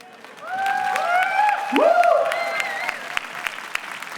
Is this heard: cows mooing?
no